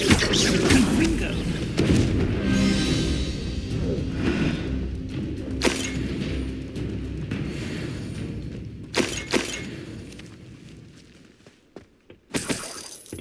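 Fire spells blast in Hogwarts Legacy with heavy booming explosions and shattering crashes over a dense rumble of battle, followed by sharper isolated impacts near the end.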